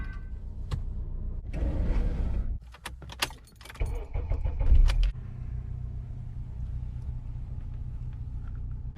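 Cold start of a 2008 Acura TSX with about 200,000 miles, heard from inside the cabin: a clattering crank and catch around the two-second mark, then a steady low idle rumble, with keys jangling nearby.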